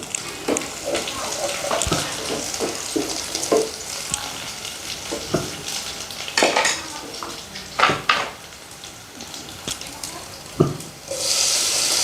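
Ingredients frying in oil in a pan for Rayalaseema-style color rice, with soft sizzling, scraping and clattering of a utensil stirring, close and intermittent.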